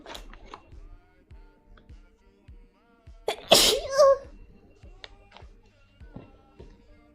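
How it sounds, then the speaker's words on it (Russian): A woman sneezes once, loudly and close, with a sharp burst after a brief inhale during a livestream with allergies; soft tapping and small handling noises come before and after. "Я чихну."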